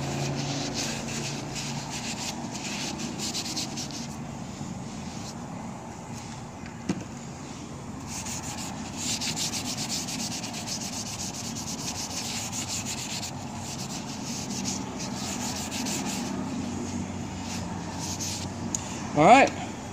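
An axe blade is worked against a puck sharpener in steady, gritty rubbing strokes, close and moderate in level, with brief pauses and a faint voice in the background.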